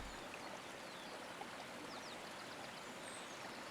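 Gentle creek water flowing steadily along a meadow trail, a soft continuous babble with faint trickles and no voices, held at an even low level throughout.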